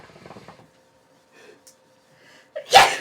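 A single sharp sneeze bursts out at the end after a quiet stretch with faint murmuring, loud and close.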